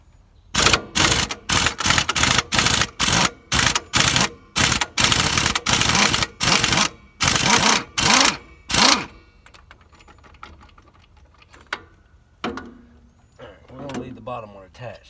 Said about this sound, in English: If I can get my air gun in here.